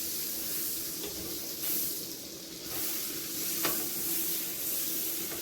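Butter sizzles steadily as it melts in a pan for hash browns, a continuous close frying hiss with slight swells and a brief sharper pop partway through, with no voices.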